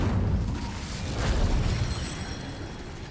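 Incendio fire spell cast in Hogwarts Legacy, a sustained low rumbling whoosh of flame with a brief brighter burst near the middle, steady and moderately loud with no talking.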